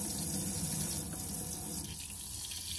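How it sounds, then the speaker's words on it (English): Cold water from a campervan tap in a Malibu Van 640 LE RB GT Family runs under pressure into the sink, a steady close rushing splash that eases slightly after a couple of seconds. "as soon as you open the tap, you're going to get a pressurized flow from the cold side"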